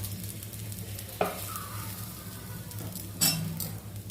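A bread sandwich fries in a little oil in a pan, with a soft, quiet sizzle and two sharp knocks of a utensil against the pan.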